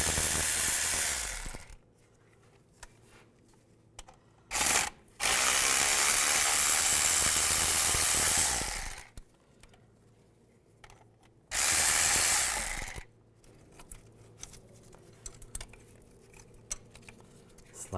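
A ratchet wrench with a 10mm socket removes bolts on a Chevy Trailblazer engine, three bursts of rapid clicking ratcheting, near and loud, separated by quiet stretches of faint shop noise.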